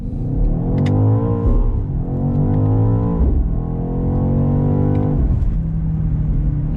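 A BMW XM hybrid SUV accelerates hard from a launch, its engine rising in a loud, steady roar through several gear shifts with no one speaking.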